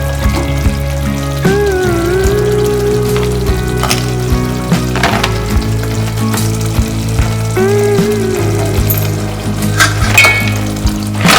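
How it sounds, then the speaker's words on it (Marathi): Crabs dropped into hot masala in a pan for a spicy crab curry, frying with a loud, steady sizzle and crackle throughout, with occasional clinks of utensils. "आता आपण याच्यामध्ये खेकडे सोडणार आहे."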